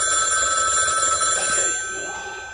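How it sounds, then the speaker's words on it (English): A telephone bell rings with a bright, steady trill that fades slightly toward the end, heard alone without talk. "it's ringing."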